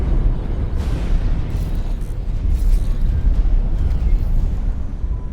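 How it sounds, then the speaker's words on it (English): A huge video-game explosion in a sci-fi squad mission roars as a sustained, loud, deep rumbling blast that fills the whole stretch without letup. "Explosion imminent."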